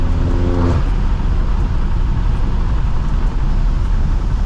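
A BMW M6 engine under way while driving, a steady loud drone with a brief low rumbling harmonic burst at the start, then continuous road and engine noise without talk.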